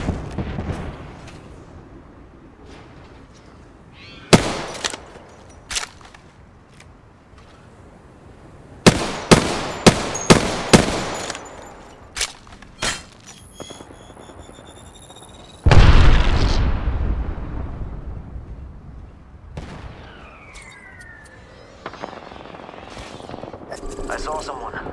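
Cluster bomb blasts in Apex Legends, scattered sharp pops and bursts in quick groups, then one big booming explosion that trails off slowly, with gunfire and a player talking between the hits.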